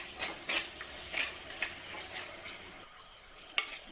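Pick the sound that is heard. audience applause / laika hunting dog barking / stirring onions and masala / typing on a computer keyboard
stirring onions and masala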